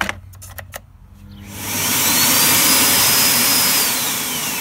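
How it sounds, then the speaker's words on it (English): A Miele Cat & Dog 6000 vacuum cleaner switched on, preceded by a few clicks, then a loud, close motor whine that spins up and holds as a steady roar with a high rising tone. "you can actually see if you've got dust in your machine by flicking it on."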